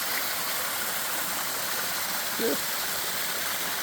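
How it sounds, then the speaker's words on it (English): Small stream forming a water feature beside a forest trail in the Tillamook State Forest: a steady, soft, continuous hiss of flowing water with no break, fairly faint and even throughout. "This is a real cool little water feature that's along the trail."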